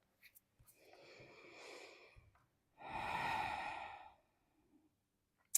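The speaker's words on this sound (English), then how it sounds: "Hope I'm not breathing too heavy into this microphone for you" Heavy breathing close to the microphone during a hip-stretching yoga practice: two long, loud breaths, the second stronger, with sighing, slightly wheezy air and brief quiet gaps.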